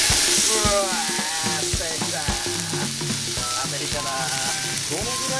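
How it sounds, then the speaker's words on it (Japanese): Premium steak meat, pork and beef, frying in a pan, a loud, steady close-up sizzle with constant crackling spatter and no one talking. "じゃあ焼いていきますか。"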